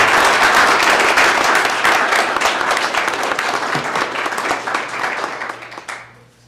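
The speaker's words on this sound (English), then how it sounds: "Let's give them all another round of applause." Dense, steady applause from a sizable crowd at a city council meeting, loud at first and gradually tapering off before stopping.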